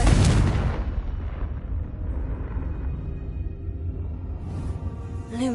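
A Confringo explosive spell cast in Hogwarts Legacy bursts with a loud blast at the start, then trails off into a long rumbling decay, with a faint magical shimmer near the end.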